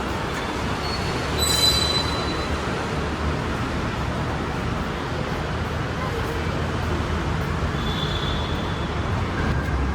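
A metro train arriving at a station platform rumbles steadily along the tracks with a brief wheel squeal near the start and another faint squeal later, a continuous loud roar throughout.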